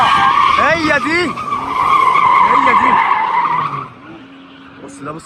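BMW cars drifting at an Egyptian drift day, with loud, sustained tyre squeal and wavering engine roar up close, easing off toward the end while people talk in the background.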